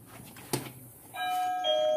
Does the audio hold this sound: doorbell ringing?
yes